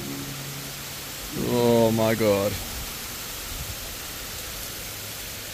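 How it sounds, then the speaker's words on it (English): Heavy rain pours at Airlie Beach, Queensland, heard from shelter under a tree as a dense, steady hiss throughout, with a voice briefly exclaiming partway through. "That's some heavy rain."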